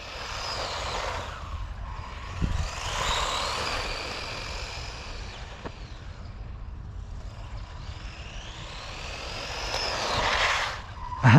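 A WLtoys RC car accelerating hard and fast, its high-pitched electric motor whine rising and falling in several sweeping passes, with tyre noise and a brief knock, fairly close throughout with no talk.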